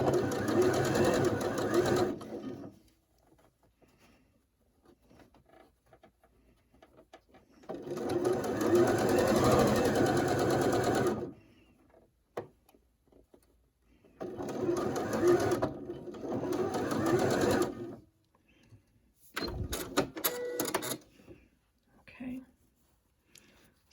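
Domestic sewing machine stitching a curved seam on a quilt block with a quarter-inch seam allowance, running in three or four separate bursts of steady whirring with short quiet gaps between them.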